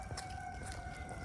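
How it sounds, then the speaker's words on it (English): A siren wails steadily and faintly in the background for the whole moment, a sustained tone with no other sounds over it. "Oh snap, my siren went off."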